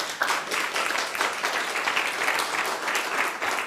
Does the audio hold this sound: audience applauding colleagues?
yes